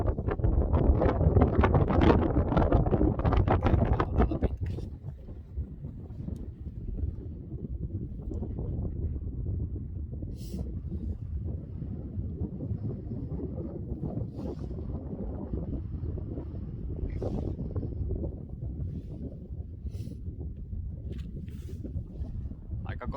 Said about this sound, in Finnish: Aika kova tuuli täällä on tällä hetkellä.